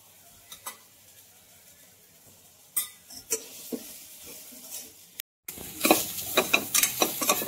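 Black masala spice frying in a pan while being stirred: soft sizzling under scattered spoon scrapes and taps, growing louder and busier toward the end after a brief gap.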